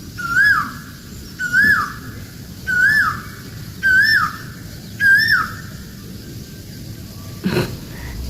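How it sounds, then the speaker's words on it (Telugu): An Asian koel calls five times in a row, each a rising whistled note, evenly spaced and fairly near, followed by a brief dull thump. "కోకిలకు వేసే సౌండ్స్ వినాలని. ఎర్లీ మార్నింగ్ అయితే మంచిగా వినబడుతుంది."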